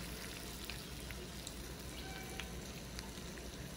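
Medu vada frying in hot oil, a steady dense crackle and sizzle with fine popping, close and continuous, with no talk.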